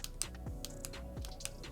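The textured power button on a Corsair HS80 Max headset gives several short, tactile clicks in quick succession, close and fairly quiet against low background noise.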